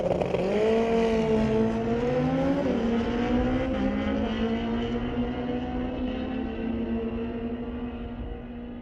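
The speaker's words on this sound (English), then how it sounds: "in the tower lane, we got Corey Craig, Hayabusa 1300 turbocharged unit." Turbocharged Suzuki Hayabusa 1300 motorcycles launch in a drag race at a raceway, engines screaming loud and close as the pitch climbs through quick gear changes before fading into a distant whine.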